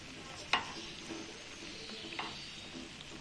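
Suji biscuits made with semolina and egg fry quietly in a pan over a low flame, a soft, faint sizzle with one sharp tap of a utensil near the start and occasional light stirring.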